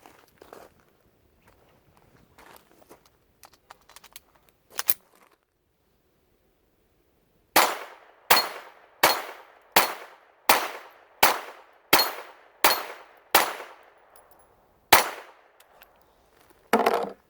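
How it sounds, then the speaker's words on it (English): A Ruger Mark IV pistol fires about a dozen sharp, evenly spaced shots at steel targets outdoors, each crack followed by a short ringing decay, after a few quieter handling noises. "let's go ahead and ring the steel a little bit."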